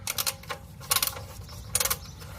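A vintage 1926 Snap-On ratchet clicks in three quick bursts of sharp, close metallic ticks separated by short pauses.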